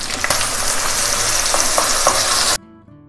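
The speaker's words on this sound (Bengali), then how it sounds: "এর জন্য পেঁয়াজ পেস্টটাকে আমরা ভালো করে ভেজে নিচ্ছি তেলের মধ্যে।" Onion paste frying in oil for a Kolkata-style mutton curry, a loud, steady sizzle with scraping stirs of a spatula in the pan, ending abruptly.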